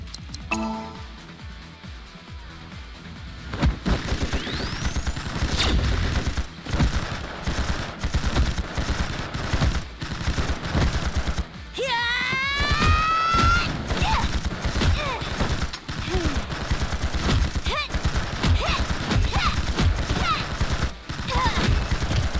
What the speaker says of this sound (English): Cover me as bullets hit my feet.